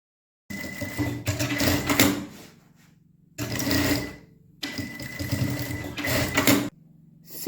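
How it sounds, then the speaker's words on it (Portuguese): A sewing machine stitches a seam on a fabric bag in three close, rapid bursts, with quiet pauses and a faint hum between them and no talk. "vou fazer uma costura aqui"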